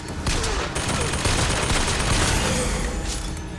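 Dense, continuous gunfire from a firefight in the video game BioShock Infinite played in VR, loud and unbroken for several seconds with no clear gaps between shots.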